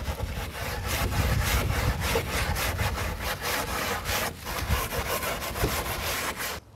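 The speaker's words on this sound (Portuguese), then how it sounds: "Escova de aço." A steel wire brush scrubs old wood treated with a wood-brightening cleaner, in rapid, rough back-and-forth strokes, close and steady for several seconds without speech.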